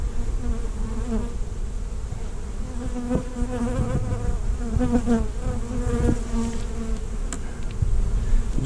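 Honey bees buzzing loudly and continuously, a dense swarming drone close by during a cutout from the floor of a second story.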